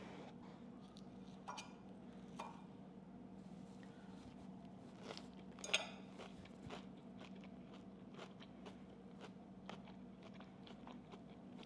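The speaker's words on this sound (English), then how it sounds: "Do you hear the crispy crunch?" Close, crisp crunches from biting and chewing a crispy chicken salad, irregular bites with crackly texture, one louder crunch midway, no talking.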